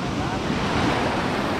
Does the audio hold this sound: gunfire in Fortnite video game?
no